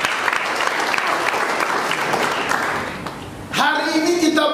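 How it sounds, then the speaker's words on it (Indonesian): A church congregation claps together during a sermon, a dense burst of applause that fades after about three seconds before a preacher's voice takes over. "kita tepuk tangan dulu"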